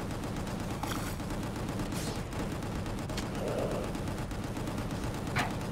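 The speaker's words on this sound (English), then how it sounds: "So much bullet shooting, I can't even see here" Continuous gunfire in the action game Gungrave G.O.R.E., a dense, even rattle of shots that never lets up, with a few sharper cracks standing out, heard at moderate level.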